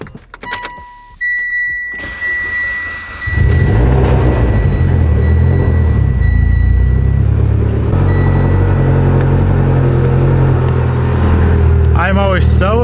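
A car fitted with an ACT twin-disc clutch has a few clicks and whirs, then the engine cranks and catches at about three seconds and settles into a loud, steady, rumbling idle, with a brief voice near the end.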